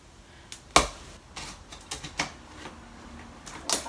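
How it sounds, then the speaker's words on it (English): Wire cutters snipping a wire guinea pig cage panel at the corner, a few sharp isolated metallic clicks and snaps, one loud, the others lighter, spaced irregularly over quiet background. "Alright, so I'm just gonna cut it here."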